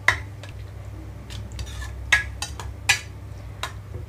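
Snake gourd chutney being stirred into curd in a bowl, a spoon clinking and scraping against the bowl in a few scattered taps over a low steady hum, no talk.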